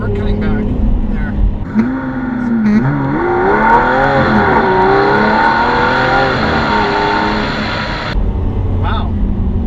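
A Lamborghini Aventador accelerates hard, its loud close engine note climbing in rising sweeps through quick gear changes before cutting off abruptly, with voices faintly in the cabin.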